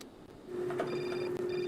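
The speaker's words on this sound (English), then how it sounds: "Phone call." A telephone rings in the Syberia adventure game, a steady electronic ring tone sustained across the clip with a brief gap near the end, heard alone at moderate level.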